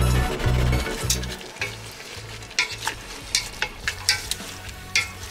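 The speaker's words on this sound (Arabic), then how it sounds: "غادي نخليو كلشي يتشحر ويشرب هاد التوابل كاملين" Fenugreek seeds, lentils and spices frying in smen butter for Moroccan rfissa, a bright continuous sizzle with a run of sharp rhythmic stirring scrapes against the pot, close and clear.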